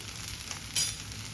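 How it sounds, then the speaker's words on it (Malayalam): Okra for a lady's finger stir fry cooks in a pan, giving a continuous soft frying hiss with a brief louder flare of sizzle midway. "വെണ്ടക്കായയുടെ ഈ വഴുവഴുപ്പെല്ലാം മാറണം അതുവരെ ഇതൊന്ന് വേവിച്ചെടുക്കാം"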